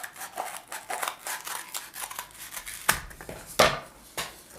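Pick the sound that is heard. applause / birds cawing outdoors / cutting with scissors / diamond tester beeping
cutting with scissors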